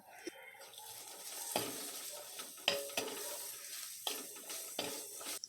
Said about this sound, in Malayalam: ഒരു മീഡിയം സൈസ് സവാള സ്ലൈസ് ചെയ്തത് ഇട്ട് കൊടുക്കാം ഒപ്പം തന്നെ രണ്ട് പച്ചമുളക് നെടുകെ കീറിയത് അര ടീസ്പൂൺ ഉപ്പ് എന്നിവ ചേർത്ത് വഴറ്റി തുടങ്ങാം